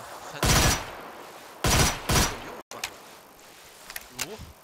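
Gunfire in a shooting video game sounds in three sharp, loud bursts of rapid shots close together, followed by a quieter stretch with faint game sounds.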